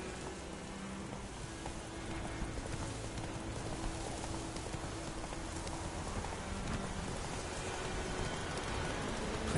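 Horse hooves trotting in The Witcher 3, a soft continuous clip-clop under a wash of rain-like ambience, fairly faint and steady throughout.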